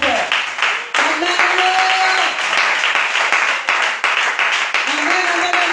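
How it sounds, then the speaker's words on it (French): A church congregation applauds and cheers loudly to acclaim the Lord, a dense sustained roar of clapping with voices shouting over it throughout. "Acclame le Seigneur très très fort."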